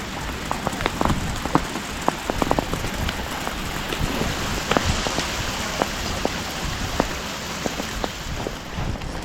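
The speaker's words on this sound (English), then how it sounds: "It's hailing out here in the lake." Hail falling onto a lake around someone out fishing, a steady dense patter of small hits with sharper individual strikes scattered throughout, close and continuous with no talking.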